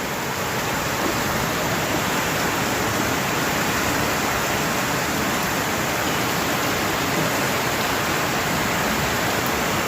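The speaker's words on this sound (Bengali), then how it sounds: "বৃষ্টির আওয়াজ শোনো।" Heavy, constant rainfall roars as a dense, uniform hiss, loud and close, with no breaks or voices.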